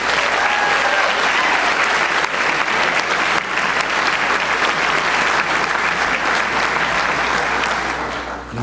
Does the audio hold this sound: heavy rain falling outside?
no